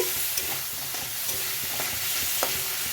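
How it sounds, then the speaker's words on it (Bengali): Okra and shrimp fry in a pan, giving a steady close sizzle with a few soft scraping stir knocks scattered throughout and no talk. "এটা ভেজে নিচ্ছি"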